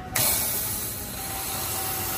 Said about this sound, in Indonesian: Nah, kita semprot langsung seperti ini ya.